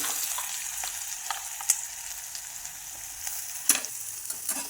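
Cumin seeds sizzle in hot oil in a kadhai, a steady close crackle with a few sharper pops and stirring scrapes, no talking.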